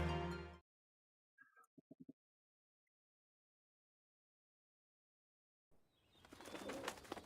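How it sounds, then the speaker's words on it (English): Soft pigeon-like cooing from Final Fantasy Tactics: The Ivalice Chronicles, a short run of four or five quick coos in near silence, with bursts of game sound before and after. "Bird."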